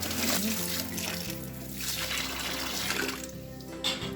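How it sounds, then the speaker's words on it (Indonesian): Water poured into a pot holding a turkey, a steady running splash lasting the whole few seconds at close range, with a low background hum and no clear talk over it. "Masukkan air."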